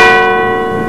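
A large bell rings an alarm, a single loud metallic strike that hangs in a long, slowly fading ringing tone.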